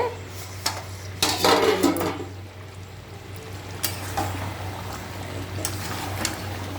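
Meat being stirred in a covered cooking pot, with scattered scrapes and clinks of a utensil against the metal and brief louder stirring bursts over a steady low hum.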